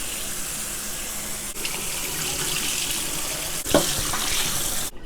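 Warm water runs steadily from a kitchen tap while duck wings are rinsed under it, a continuous close splashing gush with a couple of brief shifts in the flow.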